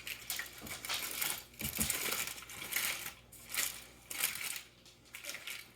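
A rested smoked pork butt is unwrapped, repeated crinkly, crumpling rustles of wrapping coming in uneven bursts, close and fairly quiet, with no voices.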